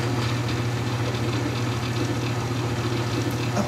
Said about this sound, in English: Switch on the machine